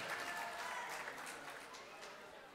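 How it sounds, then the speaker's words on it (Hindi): Audience applause at an All India Mushaira poetry gathering in a cultural hall, a steady wash of clapping from a crowd with faint voices mixed in, fading slightly toward the end. "चाहता ये हूँ कि एक बार ज़ोरदार सी तालियां इस खूबसूरत से मुशायरे के लिए हो जाए"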